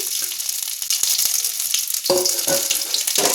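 Ground mankochu (giant taro) paste hits hot frying oil and sizzles loudly and continuously, with wet crackling bursts as it is pushed around the pan.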